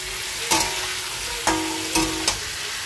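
Green chili and tomato frying with fish in a hot pan, a steady close sizzle broken by several sharp crackling bursts as pieces hit the oil.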